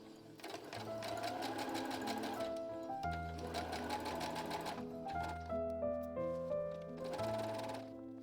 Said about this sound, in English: So I sewed my first panel together after I pinned it.